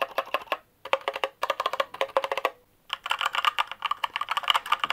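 Rapid clattering keystrokes on a gaming keyboard fitted with TTC Red linear switches, typed in quick close bursts with brief pauses between them, loud and alone.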